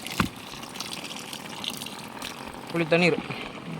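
Tamarind water pours and splashes into a cooking vessel, with a brief louder gurgling burst near the end.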